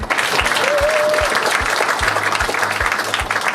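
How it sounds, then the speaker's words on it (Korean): An audience applauding to welcome the mayor at a youth event, dense and continuous clapping close by, with a steady low thumping beat underneath and a brief whistle early on. "박수로 맞이해주시기 바랍니다."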